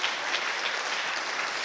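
A church congregation claps together during worship, a dense, steady wash of applause held at an even level throughout the short moment.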